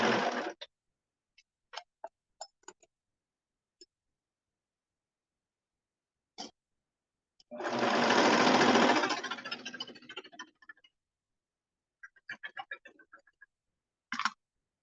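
A sewing machine stitches a bomber jacket's body and lining in one loud burst of whirring, with scattered clicks and taps before and after.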